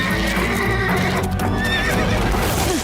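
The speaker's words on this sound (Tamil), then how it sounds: "இது காட்டுல வாழ்ற குதிரை." A wild horse neighs loudly and close by, a sustained whinny under a dense, noisy outdoor backdrop, with faint hoof clip-clops mixed in.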